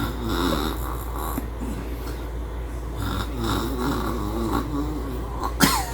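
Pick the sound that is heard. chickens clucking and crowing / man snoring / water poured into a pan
man snoring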